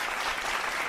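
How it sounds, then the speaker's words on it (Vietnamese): Studio audience of a Vietnamese dating show clapping in a brief, dense, steady burst of applause. "Một tràng vỗ tay để chúc mừng chú"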